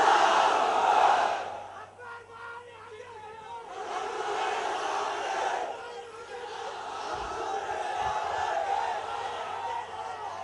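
A crowd at a political rally in Bhiwandi chants the Nara-e-Takbir slogan, a loud massed roar of many voices rising and falling in bursts, with a steady low hum beneath.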